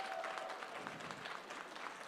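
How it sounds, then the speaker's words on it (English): An evening gathering's audience applauds in a steady, even patter of many hands, faint and somewhat distant, lasting a couple of seconds. "give our brother Wes another round of applause"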